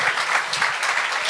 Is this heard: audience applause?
yes